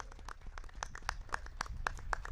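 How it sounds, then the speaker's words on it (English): Scattered applause at a Matrix Fight Night MMA press conference: a handful of distinct, crisp hand claps in an uneven rhythm, fairly quiet and sparse rather than a full ovation. "Big round of applause for him."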